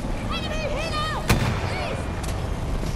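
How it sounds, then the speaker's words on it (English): A rocket strikes an enemy Hind helicopter in a combat video game, landing as one sharp, loud blast near the middle, set against steady battle noise with whistling tones and distant gunfire. "Oh, I got him with that rocket."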